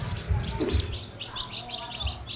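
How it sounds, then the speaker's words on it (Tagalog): Newly hatched chicks in a homemade egg incubator give high, rapid peeping chirps in quick overlapping bursts, close and moderately loud over low background rumble. "Ito na yung mga bagong pisang nating sisiw."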